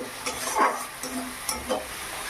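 Spice paste for a spinach dish fries slowly in a pan, with a faint, soft sizzle under a few scattered scrapes and taps of a spatula being stirred through.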